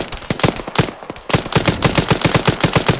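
In a war video game, gunfire crackles in loud, rapid bursts of automatic shots with a short pause between volleys.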